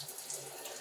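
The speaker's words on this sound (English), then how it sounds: "You turn on the sink here, it goes to the sink. But you flip this switch here," Soft, steady rush of tap water running from a faucet switched over to a shower in a tiny Tokyo apartment bathroom, quiet and continuous with no voices.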